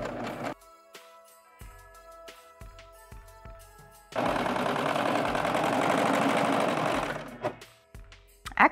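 A serger sewing up the sides of a fur Santa hat runs in a steady, close, loud whir for about three seconds, framed by clicks and handling noises before and after, with no talking.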